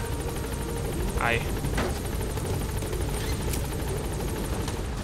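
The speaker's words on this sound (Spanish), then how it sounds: "Voy a tener que ir a coger el helicóptero y a ver qué opciones tiene una vez está dentro." Helicopter in Metal Gear Solid V: The Phantom Pain at Mother Base, a steady rotor drone with a fast rhythmic chop running throughout under someone speaking a short word.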